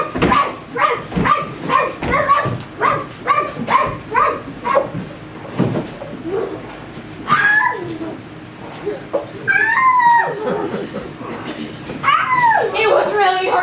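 A child imitates a dog, producing a rapid run of short rhythmic bark-like yelps followed by rising, whining growls and howl-like cries, all loud and close with no other talk.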